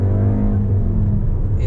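Volkswagen car accelerating hard in race mode, a loud close engine roar with strong low rumble throughout; distinct exhaust bangs at gear shifts are not clearly separable.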